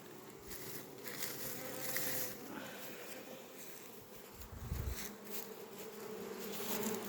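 Bees swarm and buzz densely at an apiary during a mass poisoning, a continuous close hum of many insects with brief louder thumps, no talking.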